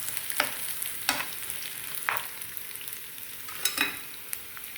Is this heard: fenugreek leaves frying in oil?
yes